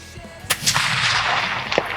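A rifle fires at a target 304 metres away: a sharp, loud crack followed by a long rolling echo, then a second fainter report, heard outdoors with no talk.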